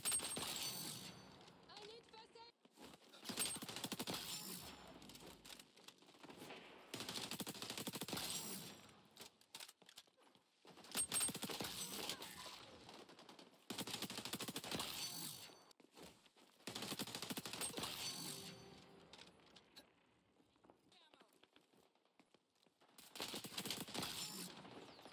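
M4A1 rifle fire in the video game XDefiant, repeated bursts of rapid gunfire separated by short quiet gaps, with game sounds between the bursts.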